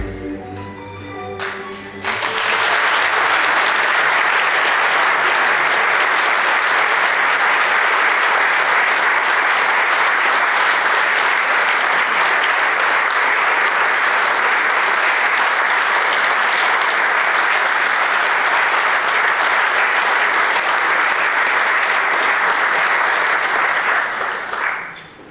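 Sustained loud audience applause at a municipal celebration in Laško, a dense wash of clapping that swells after a brief opening and holds steady for over twenty seconds before tapering at the end.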